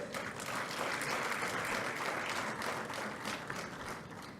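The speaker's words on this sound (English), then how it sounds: "applaud him because" Audience applause for a speaker at a youth forum, a steady, dense crowd clapping heard at moderate distance and holding evenly throughout.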